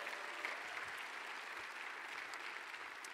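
Church congregation applauding a group of young adults leaving for college, a steady wash of many hands clapping that holds evenly from start to end with no voices over it.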